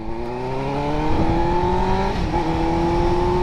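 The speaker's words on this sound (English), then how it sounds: "Break this new tire in with some acceleration. The fucking pops." A motorcycle, just fitted with a new tire, accelerates hard, its engine note climbing steadily through the gears. Exhaust pops and crackles sound over a loud, close, continuous roar, with no talking.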